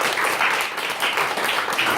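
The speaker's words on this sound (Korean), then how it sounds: "우리 격려하는 마음으로 박수 한번 보낼까요?" A congregation in a church applauds the choir after a hymn, many hands clapping in a steady, slightly pulsing wash, fairly loud and without speech.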